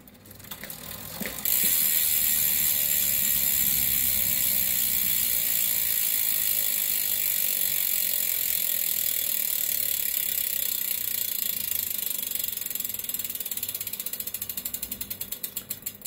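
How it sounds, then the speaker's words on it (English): Freewheel hub of a Vision Trimax 25kb bicycle wheel ratcheting as the wheel coasts, a loud, steady, fast buzz of pawl clicks that starts abruptly and holds for the whole stretch, fading slightly near the end. "But let's do a sound check."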